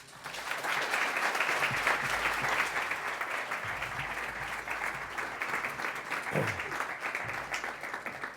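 Audience at a City Club event breaking into sustained, even applause as Dr. Andrew Delbanco is welcomed to the stage, a dense crowd clapping that holds steady for several seconds without speech.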